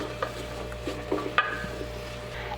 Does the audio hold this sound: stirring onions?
yes